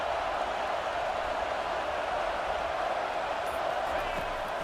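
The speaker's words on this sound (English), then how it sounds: "listen to this crowd noise. This stadium is vibrating." Dense, steady roar of a packed stadium crowd at a college football game between Georgia Tech and Wisconsin, a continuous loud wash of voices with no breaks.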